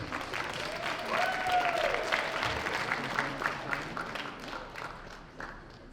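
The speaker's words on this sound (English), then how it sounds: "So let's get a round of applause for Todd." A conference crowd at a startup demo day applauds a presenter, with dense, steady clapping and a few whoops sustained for several seconds, moderately distant in a large room.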